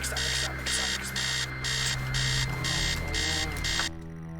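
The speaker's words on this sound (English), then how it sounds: "Somehow the alarm stops." A house alarm in the game Stories Untold blares in loud, regular pulsing bursts about twice a second, then cuts off abruptly near the end.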